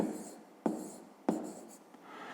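Pen or chalk writing out a sum of numbers by hand during a fifth-grade math exercise, heard as a few short scratchy strokes separated by sharp taps, close and quiet with no talking.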